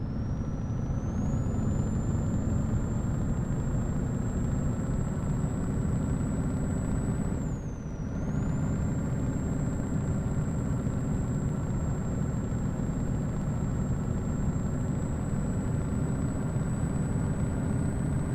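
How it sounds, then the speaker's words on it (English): Truck engine idling, a V8 in Euro Truck Simulator 2: a steady, loud, low rumble with a thin high whine held over it, continuous and unbroken, with no talking. "this V8 engine does make my cushion rattle"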